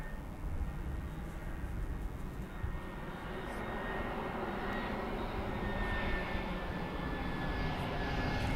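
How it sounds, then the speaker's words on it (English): Jet engine roar of an Airbus A320 on short final approach at Birmingham Airport, a steady moderately distant whine and rumble building slightly toward the end, with no talk. "A320, the Parma inbound. That's on very short finals."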